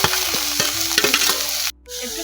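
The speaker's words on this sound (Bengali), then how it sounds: "একটু নাড়াচাড়া করে নেব," Fried potatoes tossed with spice paste and coriander powder in an oiled pan, stirred with a rhythmic metal scraping over steady sizzling, then a brief hush before the frying noise returns.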